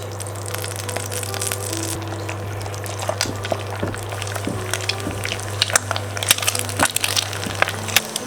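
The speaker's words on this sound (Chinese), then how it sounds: "打入鸡蛋" Egg dropped into a hot oiled wok for a sweet-and-sour fried egg, frying with a steady sizzle and crackle close by, a constant low hum underneath, and brief sharper pops scattered through.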